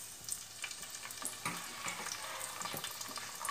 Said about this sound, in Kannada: ನೀರುಳ್ಳಿ ಹಾಕಿ ಫ್ರೈ ಮಾಡುವ